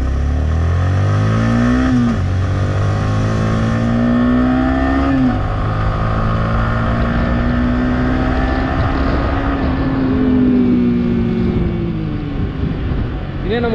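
A Yamaha R15 V3 BS6 motorcycle with an aftermarket exhaust revs loudly through repeated gear changes on a pickup test, its engine pitch climbing, dropping at each shift, then climbing again close by.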